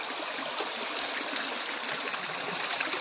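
Water flowing over slippery stones in a shallow creek, a steady close rushing and babbling with no pauses.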